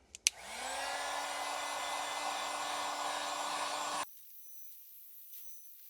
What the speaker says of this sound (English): I'll change over to my heat gun